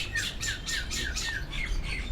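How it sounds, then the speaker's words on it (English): A bird kept near bamboo plants at a hot springs site in West Java squawks in a loud, repeated series of harsh calls at a steady rhythm, close by and alone. "Oh, that's a bird."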